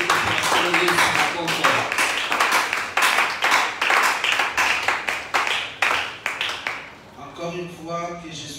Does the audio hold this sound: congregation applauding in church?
yes